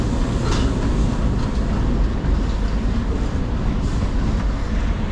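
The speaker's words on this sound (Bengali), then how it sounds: "এই হচ্ছে ব্ল্যাক ডায়মন্ড এক্সপ্রেস।" Howrah–Dhanbad Black Diamond Express moving at a station platform, a loud steady rumble of rolling rail cars with faint wheel clatter and no talk.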